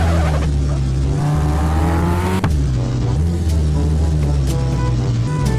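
A car driving in Car For Sale Simulator 2023, a loud steady engine drone with shifting revs and a brief knock midway, continuous throughout.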